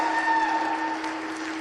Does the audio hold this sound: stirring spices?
no